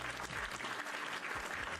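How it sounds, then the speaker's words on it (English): Brief, dense applause fills the whole moment, a steady wash of clapping with no voices standing out. "Everybody give a round of applause for Aaron Phillips with the raid"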